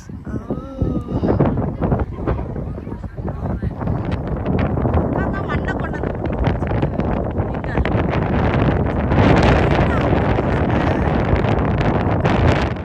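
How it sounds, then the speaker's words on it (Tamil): Strong wind buffets the microphone over open, desert-like sand, roaring and gusting continuously and growing louder toward the end, with voices heard faintly at times. "இங்கே வந்து பார்த்திங்கன்னா காற்று செம்ம காற்று"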